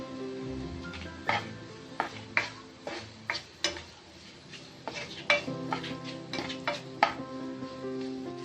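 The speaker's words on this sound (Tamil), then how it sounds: "இஞ்சி பூண்டு பேஸ்ட் சேர்த்திக்கலாம்." Ginger garlic paste and onions frying in a pan for tomato kurma, with a spoon scraping and clacking against the pan in irregular strokes over a soft, steady sizzle.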